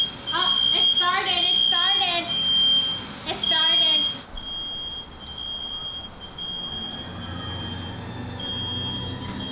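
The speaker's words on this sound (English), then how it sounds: "Is my fire alarm broken or something? Oh, it started." A kitchen smoke detector beeps in a fast repeated high tone for about four seconds, loud and near, then trails off into steady room noise.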